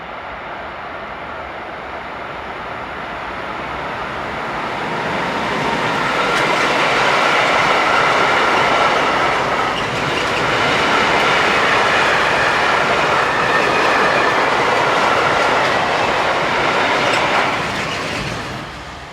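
A Class 185 train rumbles past at steady volume, wheels clattering on the rails as the broadband roar swells and holds before easing off at the end.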